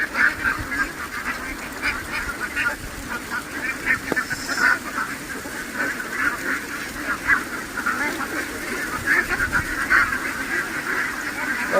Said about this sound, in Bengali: Call call call call call call করছে হাঁস।